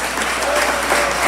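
An audience at a church wedding gathering in Honduras breaks into brisk, dense applause, a steady wash of clapping heard close, with a faint voice mixed underneath.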